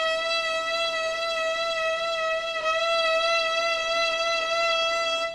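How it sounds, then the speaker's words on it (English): A violin sustains a single steady note with finger vibrato, bright and harmonically rich, wavering slightly in pitch throughout, played alone at moderate volume with no talking. "You make the finger vibrato like that."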